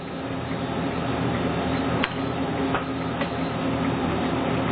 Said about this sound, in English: Syringe pump is started.